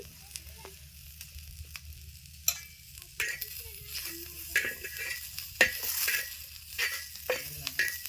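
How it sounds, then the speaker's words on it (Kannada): Green chillies and tomato frying in hot oil, a steady sizzle with stirring scrapes and occasional sharp clicks of a utensil against the pan, close and alone without talk. "ಈಗ ನೋಡ್ರಿ ಮೆಣಸಿನ್ಕಾಯಿ ಹುರ್ಕೊಂಡ್ಮೇಲೆ ಟೊಮೆಟೊ ಹುರ್ಲಿದ್ದೀನಿ"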